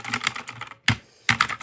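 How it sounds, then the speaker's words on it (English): Rapid clacking of computer keyboard keys, loud and close, in two quick bursts with a short pause between them. "You can still hear my keyboard."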